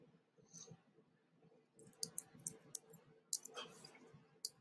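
Calculator buttons being pressed to select a CDF function, a series of sharp, quiet clicks spaced irregularly over a soft background, close by and alone.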